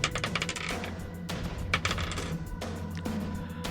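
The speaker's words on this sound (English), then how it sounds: "I'm going to roll dice" Dice clattering across a table during a tabletop game session, a series of sharp, bright clicks and rattles bunched irregularly over a few seconds, close and fairly loud.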